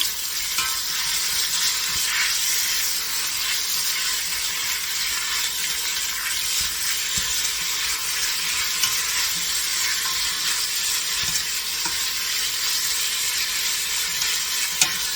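Beef and sliced vegetables, including green onion, onion and carrot, sizzle and stir-fry steadily in a hot pan for jjamppong, a continuous bright crackle with occasional scrapes and no talking.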